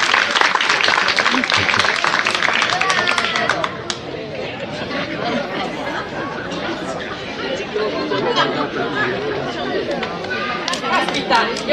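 Audience at a final theatre-course performance by the Pro Loco of Ottone breaks into loud, dense applause and chatter, which fades after a few seconds into a steady murmur of crowd voices with scattered claps.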